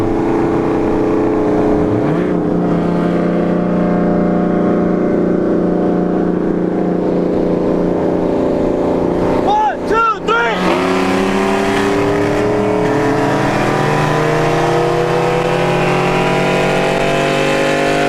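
A Chevrolet Cobalt SS with an engine misfire revs hard and accelerates during a street race. The loud engine rises in pitch through the gears with a brief shift break midway, and a driver talks over it.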